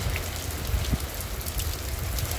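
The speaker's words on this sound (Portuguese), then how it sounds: "Muita chuva hoje, meus companheiros, aqui em Santana do Ipanema, domingão," Heavy rain falling on a Sunday in Santana do Ipanema, Alagoas, a dense, steady hiss of drops with no pauses and faint patters on surfaces nearby.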